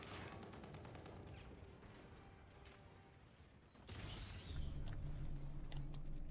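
A grenade blows up in the Call of Duty: Infinite Warfare video game. A low, rumbling blast lands near the middle, between rapid gunfire crackling before it and after it. The whole thing is quiet in the mix.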